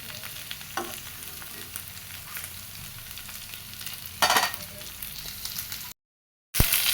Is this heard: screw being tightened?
no